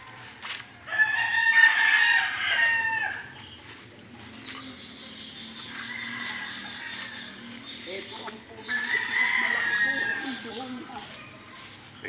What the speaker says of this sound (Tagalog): Manok ito.